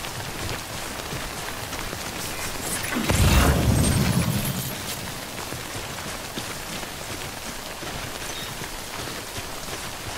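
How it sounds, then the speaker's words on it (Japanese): Heavy rain pours down in the video game Death Stranding as a dense, continuous hiss, swelling into a louder, deeper rumbling gust for a couple of seconds midway before settling back to a steady downpour. "うわ、雨ひどくなった。"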